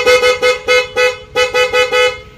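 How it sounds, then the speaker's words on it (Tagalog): A loud dual-tone vehicle horn honks in a rapid series of about nine short blasts, close and piercing. "Kanyang dual horn, ayan o."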